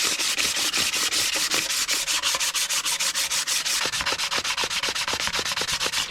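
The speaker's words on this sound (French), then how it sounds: "Technique ancestrale du papier à poncer, moi je te le dis." Sandpaper rubs back and forth across a motorcycle cylinder head in quick, even strokes, a loud, close, rasping scrape that repeats steadily with no voices.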